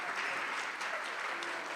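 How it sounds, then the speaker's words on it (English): Steady applause from an audience, a dense wash of clapping hands sustained throughout with no voices. "Please join me in a round of applause for our musicians, Taylor Williamson, Miranda Williamson,"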